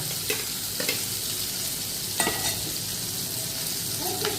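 Green chillies and curry leaves fry in a pan of oil for a chicken dish, a loud steady sizzle filling the whole stretch, broken by a few light scrapes of stirring.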